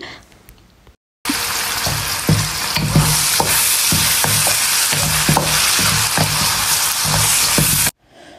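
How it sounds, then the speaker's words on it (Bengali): Chopped onion fries in ghee with whole garam masala, a dense close sizzle that starts suddenly, with regular stirring knocks against the pan before stopping sharply after several seconds. "সাথে দিয়ে দিচ্ছি কুচনো পেঁয়াজ। তো এটাকেই আস্তে আস্তে সুন্দর করে ভেজে নেব।"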